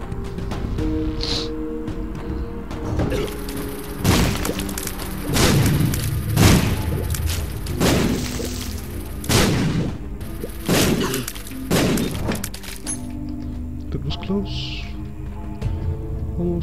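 Bombs explode repeatedly in the video game The Binding of Isaac, a series of heavy booming thuds spaced a second or two apart over looping game music, loud and punchy.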